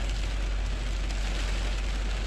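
Steady rain falls outdoors, a dense, even hiss of drops without pauses, loud and close throughout.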